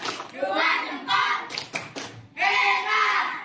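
A class of children claps along in a thumb-clapping game, bursts of quick hand claps and taps with short breaks, chanting voices over the clapping, loud and close.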